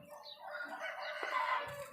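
Roosters at a cockfighting arena in Ubon Ratchathani, Thailand, crowing and clucking at moderate distance over a steady bed of crowd and outdoor noise.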